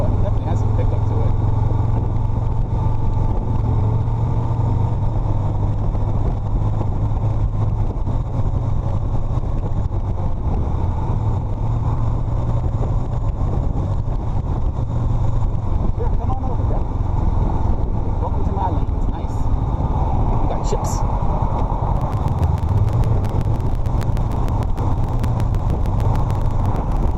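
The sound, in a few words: 2021 Honda Rebel 500 motorcycle engine accelerating and downshifting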